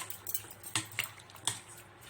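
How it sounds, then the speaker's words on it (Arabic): Chicken pieces being turned in marinade for grilled panné, heard as a few close clinks and taps of a utensil against a dish with soft scraping between them. "تفضلي كده تقلبي فيها عشان القطع الفراخ كده البانيه تاخد كلها من التتبيله"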